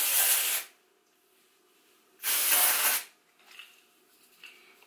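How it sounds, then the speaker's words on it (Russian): Dry shampoo aerosol sprayed in two loud, sharp hissing bursts about a second long each, separated by a pause, followed by faint rustling and handling noises. "Очень громко, но я люблю сухие шампуни."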